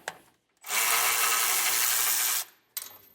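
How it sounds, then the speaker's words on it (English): A power tool with a 16mm socket whirs continuously for about two seconds while removing a jounce bumper bolt on a vehicle's rear suspension, starting and stopping abruptly and loud up close. "we're going to be removing the 2 bolts here, and these are going to require a 16mm socket"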